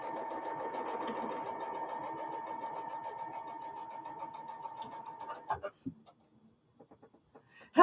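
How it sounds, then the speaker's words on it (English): A sewing machine stitches hourglass quilt blocks together with a steady, close whirring hum for several seconds, then stops, leaving a few faint clicks and handling noises. "I am sewing my hourglass blocks together"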